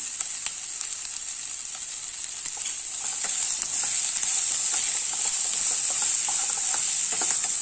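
Capsicum, potato and turmeric powder sautéing in oil in a pan, a continuous hissing sizzle that grows louder partway through, with occasional light stirring clicks and no talking.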